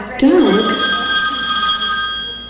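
A phone rings out in a theater during a band's concert, its trilling electronic tone loud and sustained, with someone speaking over the start of the ring.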